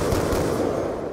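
SVU-AS rifle in the Black Ops 2 video game firing in a loud, unbroken burst of rapid gunfire that continues without a pause from start to finish.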